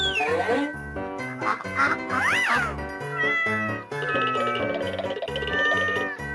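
A cat meows repeatedly in a steady run of calls, loud and close, set against bright music throughout.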